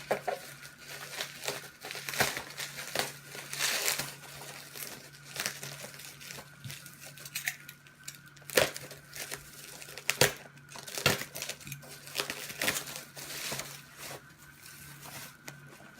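Crinkling and crumpling as bubble wrap and heavy tape are pulled off an Amazon package holding a Funko Pop figure, irregular close rustles and sharp crackles with brief quieter gaps.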